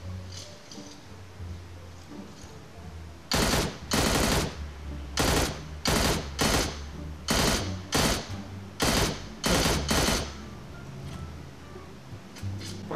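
Automatic gunfire in the mobile battle-royale game PUBG Mobile: about ten loud, sharp bursts of rapid shots come in quick succession over a low game-ambience bed, with no talk.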